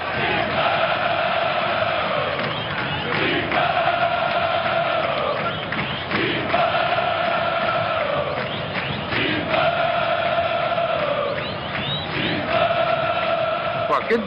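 Corinthians football fans fill the stands with loud, continuous massed singing and chanting in rising and falling phrases, a dense crowd roar throughout.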